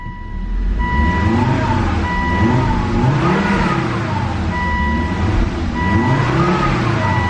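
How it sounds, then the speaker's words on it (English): A 2004 Volvo S60 R engine with high mileage and an automatic gearbox revs repeatedly, rising and falling in pitch in several close, loud swells with steady engine drone between them, no talking. "Revs up nice and smooth."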